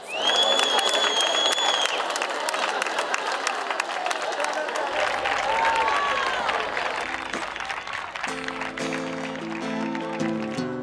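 At a live variety show in Quart de Poblet, an audience claps and cheers for a guest singer. The loud, steady applause fades slightly as music begins underneath near the end.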